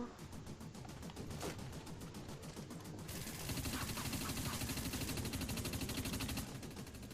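Gunfire in the Dust 514 video game: dense, continuous bursts of shots with a louder, busier stretch of rapid automatic fire midway, steady and close throughout, with no talk.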